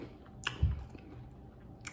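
Close, quiet chewing of crunchy Flamin' Hot Cheetos-coated fried chicken wings, with a few soft crunches and wet bites over a short moment, no talking.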